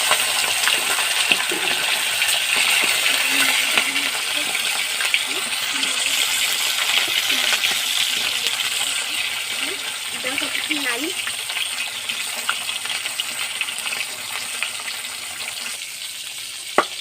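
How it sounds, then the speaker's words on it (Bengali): Silver carp fish head frying in hot oil, a steady close sizzle and crackle throughout with occasional stirring clatter. "মাছটা দিয়ে ভাজা করে নেব। প্রথমে মাছের মাথাটাই দিলাম।"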